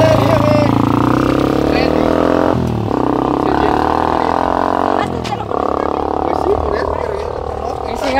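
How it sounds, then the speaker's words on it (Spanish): A motorcycle passes by, its engine droning loudly and rising then falling against a steady outdoor background. "Cuidado, que viene una moto."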